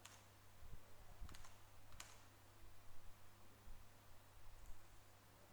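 Soft, irregular keystrokes on a computer keyboard while code is typed, faint and close, over a steady low electrical hum and hiss.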